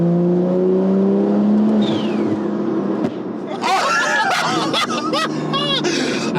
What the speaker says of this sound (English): That sound of like turbo boost, turbo whistle, the phew, and then the pop, and then the bang